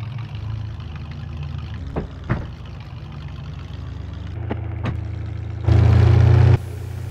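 A John Deere 9620 tractor of 620 horsepower in Farming Simulator 22 idles with a steady low rumble, broken by a few clicks, then revs up loudly for about a second before settling back.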